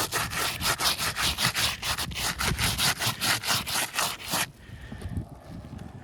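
A gloved hand rubs hard back and forth across a roof shingle, giving a fast rhythmic series of rough scraping strokes, close and loud, for about four seconds before stopping to quieter background.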